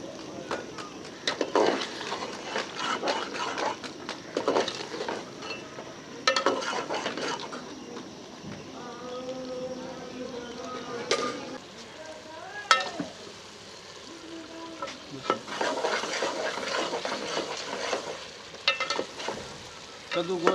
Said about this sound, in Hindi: 6-7 मिनट तेज़ आंच पे इसे भूनते हुए पकाएंगे।